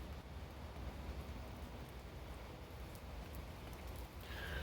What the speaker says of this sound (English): before the rain really starts coming down out here